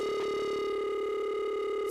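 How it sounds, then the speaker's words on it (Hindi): A telephone tone plays in a quiet indoor room, a steady unbroken electronic hum that holds for about two seconds with no voices over it. "आपका फोन आ रहा है।"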